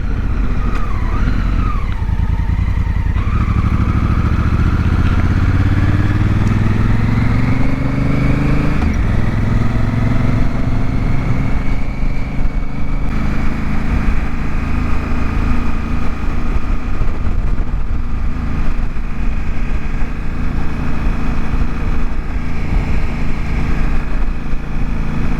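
A Honda Africa Twin motorcycle rides along a gravel road, its engine droning loudly and steadily with shifting revs. Continuous rough road and wind noise sit underneath, with no talking.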